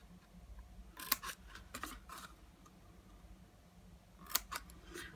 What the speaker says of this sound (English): we're just going to cut a little slit right up to the hole